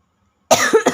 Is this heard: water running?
no